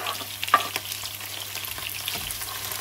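Onion frying in a pan for pisang lapu-lapu gives a steady, quiet sizzle, with a few soft clicks and stirring scrapes close by.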